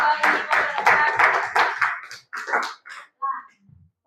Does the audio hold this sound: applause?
yes